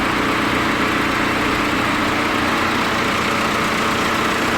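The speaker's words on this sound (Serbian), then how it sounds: "Motor sasvim normalno radi sada pola sata na roleru." Audi A4 2.0 TDI diesel engine running steadily on a roller dynamometer, a continuous loud idle-like drone with vibration and no voices.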